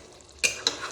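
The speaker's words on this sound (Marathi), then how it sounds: "आपल्याला मधून मधून सारखं चिकन हलवून घ्यायचंय" Chicken being stirred in a pan while cooking for biryani: two quick, close scraping stirs over a faint background sizzle.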